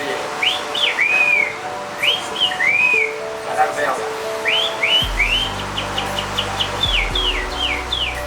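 A waiter known for mimicking many kinds of birds whistles a series of bird calls: rising and falling chirps and trills in quick bursts, clear and fairly loud, over a background of restaurant chatter and a low hum.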